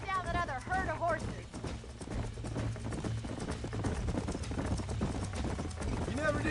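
Horses in the Red Dead Redemption video game, a rapid clip-clop of hooves with whinnies near the start, running under game music while voices talk throughout.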